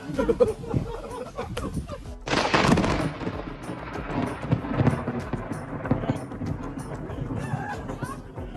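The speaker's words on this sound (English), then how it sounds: "a lightning hit right after he said 2020 has not been the best year" A sudden loud crack of thunder from a lightning strike bursts in, then rolls and rumbles on for several seconds, with faint sounds before the strike.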